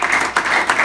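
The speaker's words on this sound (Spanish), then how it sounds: "Les damos un aplauso" A church congregation applauds, a brief burst of steady hand clapping that fills the whole short moment, moderately loud and unbroken.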